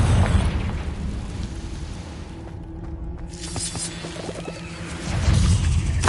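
Confringo blasting spell in Hogwarts Legacy, a deep booming explosion with a burst of crackling debris that rolls on and swells again near the end, with no voices.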